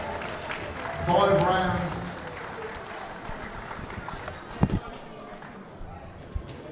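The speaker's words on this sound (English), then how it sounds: "Big round of applause for both fighters" Crowd applause and cheering for two kickboxers after a full-distance K1 title fight, a loud swell early that fades under an announcer's voice, with a few sharp thuds later.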